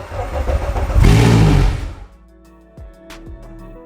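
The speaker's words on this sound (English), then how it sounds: "To start the engine, check the switch, check the neutral position of the gearbox, check that the safety switch is on." A Zeppelin 20VPRO boat engine cranks and catches, surging loudly for about two seconds before dropping back into a quieter idle with a few light clicks, heard close up.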